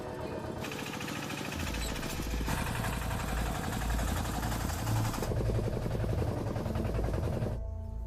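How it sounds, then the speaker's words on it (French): A farm tractor carrying passengers along a road in rural Cambodia near Angkor runs with a loud, steady diesel chugging throughout. The engine note shifts twice as it rumbles on, close and continuous, with no voices. "Et les voici partis à bord d'un tracteur."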